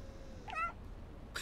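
A cat in the video game Stray gives a single clear, close meow, followed moments later by a brief second noisy burst over a quiet background hum.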